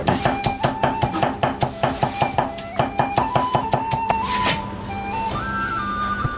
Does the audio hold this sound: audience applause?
no